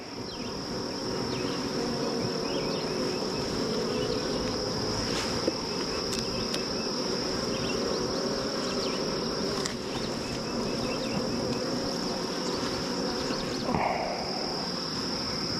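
A massive honeybee swarm drones in a dense, continuous buzz at close range, with individual bees passing nearby and no voices.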